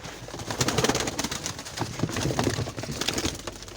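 Pet pigeons coo continuously at close range, a low, rolling murmur of overlapping calls with soft flutters and shuffling in the background.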